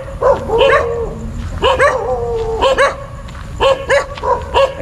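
Several dogs bark in repeated bursts, clusters of sharp yips and barks spread across the clip, fairly close, with a bit of overlapping whining between.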